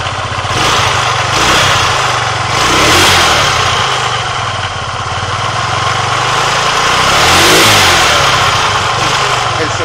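Daelim Delfino scooter engine running steadily at close range, with loud continuous mechanical drone and two gentle swells in revs, no talk over it.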